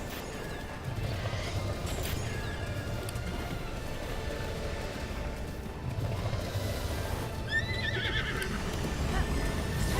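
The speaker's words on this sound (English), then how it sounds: "Go, horse, go." A horse in the video game Breath of the Wild whinnies twice over a steady run of galloping hoofbeats and rushing wind, with no talk.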